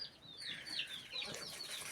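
Hens in a backyard coop fuss with repeated soft clucks and rising squawk-like calls, close and fairly steady throughout, with faint rustling underneath.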